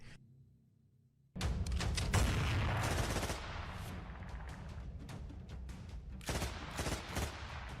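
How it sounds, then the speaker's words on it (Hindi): Rapid bursts of gunfire erupt at a street crossroads in Pakistan after a quiet moment, sharp cracks firing in quick succession, loud and close, then continuing in irregular volleys. "बाइक पर पीछे बैठा शख्स उतरते ही दोनों पर ताबड़तोड़ फायरिंग कर देता है।"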